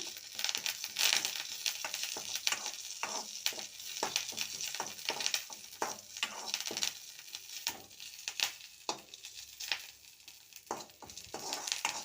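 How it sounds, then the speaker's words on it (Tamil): Curry leaves fry in hot oil with close, busy crackling and spitting pops, irregular sharp bursts over a constant sizzling hiss, with no voices. "அதே எண்ணெயில் கருவேப்பிலை நல்லா பொரிஞ்சு வரட்டும்."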